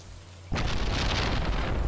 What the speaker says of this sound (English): That was a nice lightning bolt.